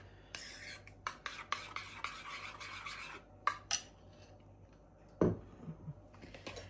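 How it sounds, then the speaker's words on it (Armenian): Cake batter being stirred after baking soda is added, soft scraping and rasping strokes of a utensil against a bowl, a series of quiet separate scrapes with a faint clunk near the end. "Լավ խառնում ենք։"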